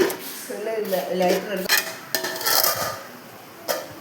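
Appam being stirred in a covered metal pan: a run of metallic clinks, scrapes and lid clatter, irregular and close, with a couple of sharp knocks.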